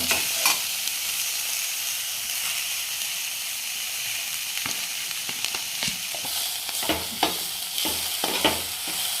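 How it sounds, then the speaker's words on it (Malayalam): Mysore spinach being stirred with ground coconut paste in a pan, a steady soft sizzle and hiss under repeated scraping strokes of the spoon that grow more frequent toward the end, close and moderately loud with no talking. "അരച്ചതിട്ട് നമുക്ക് നന്നായിട്ട് ഇളക്കി കൊടുക്കാം."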